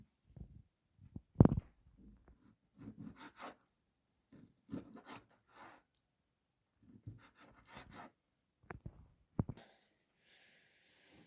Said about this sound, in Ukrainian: я беру десь 150 грамів печінки і ріжу на, на такі самісінькі дрібнесенькі кубики